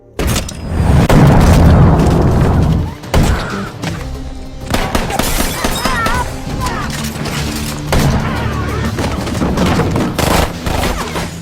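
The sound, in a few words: gunfire in a movie shootout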